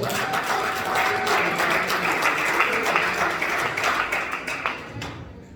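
Sustained applause from an audience at a book signing, steady dense clapping throughout before tapering off at the end, no voices.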